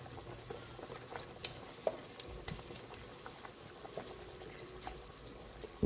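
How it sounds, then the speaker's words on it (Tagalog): A pot of chicken tinola soup with chayote bubbles and simmers quietly, with soft popping and occasional clinks, and no talking. "kumukulo na"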